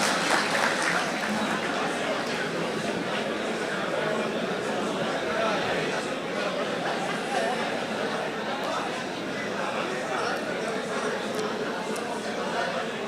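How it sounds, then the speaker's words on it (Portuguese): Audience applause at a tax administration seminar, a steady wash of clapping hands filling the room for the whole stretch, with some crowd chatter mixed in. "Uma salva de palmas para nós."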